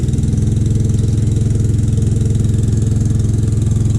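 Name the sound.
Detroit Diesel 16V71 engine running as throttle is stroked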